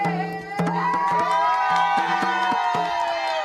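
Neighbors in Naguabo, Puerto Rico, cheer and shout as power returns months after Hurricane Maria, a brief loud burst of excited voices with a few sharp claps or knocks.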